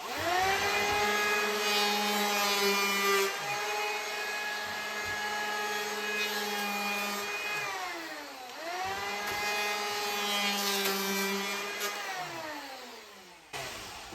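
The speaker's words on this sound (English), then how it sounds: "I'm gonna tilt my planer and I'm just gonna plane this edge so that it doesn't touch the jamb" A loud, continuous power planer whine runs steadily along a wooden door edge, dipping briefly twice as the motor bogs and recovers, with a sharp cutoff near the end.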